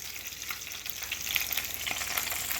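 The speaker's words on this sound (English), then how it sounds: "There's a little bit of olive oil in the pan as well to help it along. Those are sizzling." Beef neck bones searing in a pan with a little olive oil, a steady close crackling sizzle with faint spatter, no voices.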